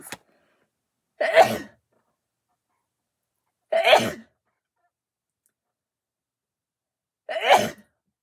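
Three separate sneezes, each short and sharp, spaced a few seconds apart with silence between them.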